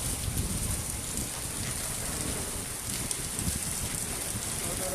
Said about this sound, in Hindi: बहुत देर बारिश हो रही है